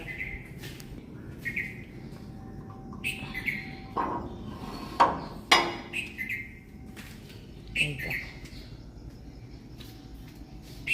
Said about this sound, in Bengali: পাখির আওয়াজ শোনা যাচ্ছে